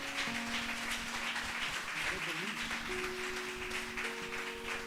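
A church congregation applauds and claps together through a Spanish-language service, a steady wash of hands with sustained musical tones beneath and some voices mixed in.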